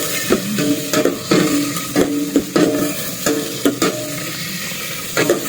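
Onions, tomatoes and aromatics sauté in a hot pan for sinigang sa miso, a constant sizzle broken by repeated scraping strokes of a spoon or spatula against the pan, close and loud with no voices.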